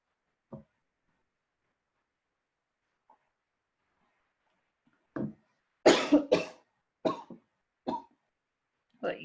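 A woman's coughing fit: a single cough, a faint throat sound, then a cluster of sharp, close coughs in quick succession, bursts separated by short silences.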